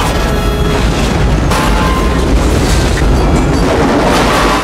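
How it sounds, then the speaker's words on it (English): A massive oxygen tube explosion from a film hits as a loud, sustained boom, a dense roaring blast that stays powerful throughout without any speech. "Despite the massive explosion, the monster was not destroyed."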